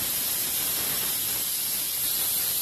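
A steady, loud hiss of escaping steam runs continuously throughout as a pressure cooker cooking chicken releases its whistle, with no speech.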